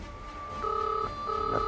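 A telephone rings unanswered indoors, two steady electronic ring bursts separated by a short pause, moderately loud with faint room noise beneath.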